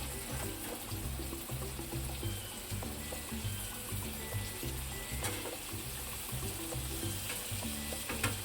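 Egg masala, boiled eggs coated in spice paste, being stir-fried in a pan. A steady moderate sizzle runs under a rhythmic scraping and tapping of a spatula that repeats every second or so, with no talking.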